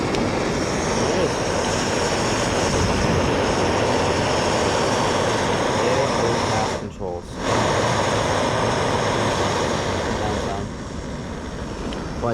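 A Jetboil camping stove's gas burner roars steadily and loudly close up, a broad continuous hiss that briefly dips once partway through before carrying on.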